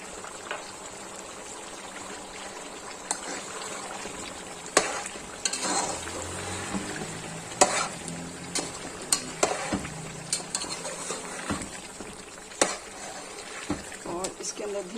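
Chicken karahi with yogurt, green chilies and fenugreek being stirred in a pan, with a steady low sizzle and repeated scraping stirs spread throughout at close range.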